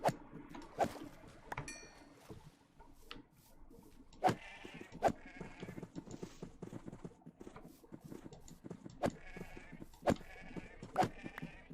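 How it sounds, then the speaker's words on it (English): Tiny baby sheep bleat faintly several times, short wavering cries spread over a soft background of knocks and clatter. "Tiny baby sheeps."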